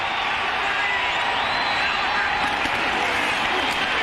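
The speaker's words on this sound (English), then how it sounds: "Crowd into it" A football stadium crowd roars steadily on a 4th-and-1 try in a 1993 Falcons at Redskins NFL game in Washington, a dense, loud, continuous wash of cheering with no pauses.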